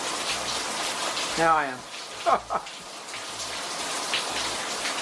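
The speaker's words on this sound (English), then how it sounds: "I know you hear that water running off the roof." Rainwater runs off a roof as a steady, dense hiss of falling and splashing water that continues throughout. A person speaks briefly over it.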